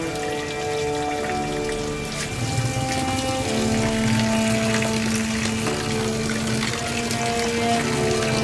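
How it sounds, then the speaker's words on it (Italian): Waste water from neighborhood toilet drains trickles steadily through a sewer in Pakistan, a continuous patter and splash that stays even throughout, with a tonal hum layered over it. "quei rigoli d'acqua che sfiorano Sanjid e la risposta è quasi banale. Sono gli scarichi dei bagni del quartiere."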